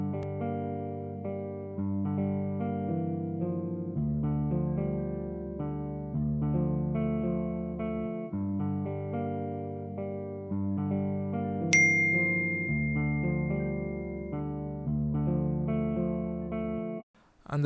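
Ample Guitar Semi Hollow virtual guitar with added effects plays a steady, chorused chord pattern with sustained tones that change every couple of seconds. A brief high ding sounds partway through, and the guitar cuts off abruptly at the end.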